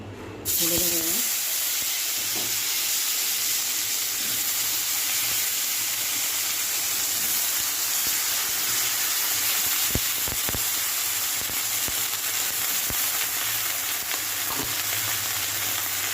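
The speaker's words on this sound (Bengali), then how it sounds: "এই মাছ ভাজার তেলে আমি আলু, বেগুন আর একটা ডাঁটা দিয়েছি, সজনের ডাঁটা।" Potato, eggplant and drumstick pieces frying in oil left over from frying fish, a loud continuous hiss and sizzle close by with occasional stirring clicks.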